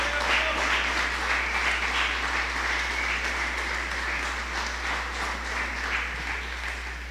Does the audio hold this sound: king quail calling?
no